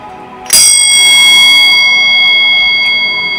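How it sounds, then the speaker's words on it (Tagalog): A single metal bell struck once indoors, ringing loud and bright with a long, steady sustaining tone that slowly fades, used for cleansing energy in a home. "Mayroon pa isa na pampakleanse ng energy, mga bell."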